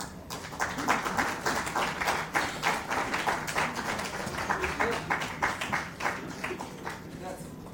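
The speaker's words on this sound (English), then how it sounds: "The clapping should go on, please." Audience clapping at a sanitation awards ceremony, steady and sustained through the whole stretch, a dense patter of many hands in a hall with a faint voice or murmur underneath.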